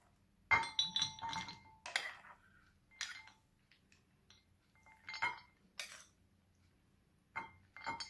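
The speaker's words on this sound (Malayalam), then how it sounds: "നമുക്കിതൊന്ന് ഒരു സെർവിങ് ബൗളിലേക്ക് മാറ്റാം" Peanut salad being moved into a serving bowl, with a string of close spoon clinks and scrapes against glass and dishware, separated by short quiet gaps.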